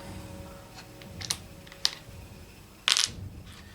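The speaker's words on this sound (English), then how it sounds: "So she's rolling 3 dice, looking for hammers." Three dice are rolled for a tabletop battle game: a few scattered clicks lead into a bright, clattering burst as the dice tumble and settle, close by and without talk.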